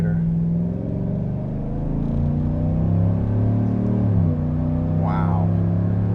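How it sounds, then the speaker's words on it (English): A 2024 GMC Sierra Denali pickup's V8 engine swells into a steady acceleration, its low rumble building under the cabin as people talk over it. "And I'm gonna hit the accelerator."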